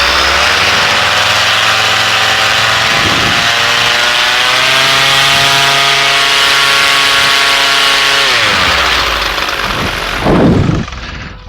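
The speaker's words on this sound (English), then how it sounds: "keep the priming going at the same time as you start up the engine" A small paramotor engine runs steadily at a high, buzzing pitch, then its revs drop and it winds down, with a couple of brief bumps of noise near the end.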